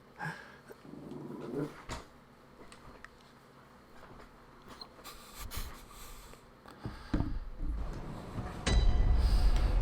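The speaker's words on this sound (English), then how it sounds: "my dog's freaking out at people outside the window" Indoors, a dog reacts to people outside a window with low growls, snorts and sniffing, scattered through the stretch and building louder toward the end, fairly close but not loud.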